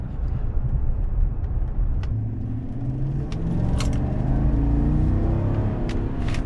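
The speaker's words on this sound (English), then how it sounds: "It is amazing how quiet it is and really how seamless the transmission shifts." A 2019 Chevrolet Silverado High Country pickup with a 6.2L V8 accelerates from low speed, its engine a low, smooth, steady rumble rising gently as it pulls, quiet and close from inside the cab.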